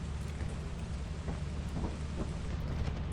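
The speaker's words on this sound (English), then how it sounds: "So, rainy weather, I have to watch out for that right there." Steady rain hisses over a dull, continuous low rumble of thunder in the Lethal Company video game, a dense wash of noise with no voices.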